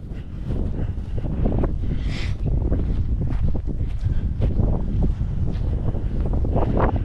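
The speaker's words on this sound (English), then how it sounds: "It's kind of windy, guys." Strong wind on an open Nebraska ranch buffets the microphone in a constant low roar, gusting and rumbling throughout with no speech.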